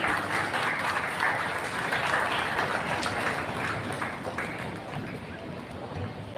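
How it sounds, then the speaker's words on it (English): An audience at a school investiture ceremony applauds, a fairly soft, diffuse clapping that carries on steadily with a faint murmur of voices underneath. "Huge round of applause, ladies and gentlemen."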